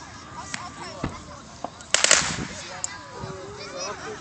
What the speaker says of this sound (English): there is people lighting other fireworks that they're not supposed to